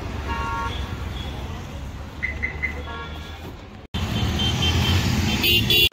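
Busy city street in Jaipur with cars and other vehicles rumbling past, a few short horn toots rising over the steady traffic noise, loud and close throughout.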